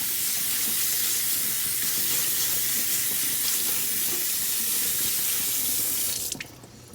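Slimy harvested seeds are rinsed under a running kitchen tap, a steady loud gush of water with faint stirring, cutting off abruptly just before the end.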